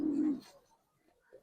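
A racing pigeon gives a short, fairly faint coo up close, followed by a soft quieter call near the end.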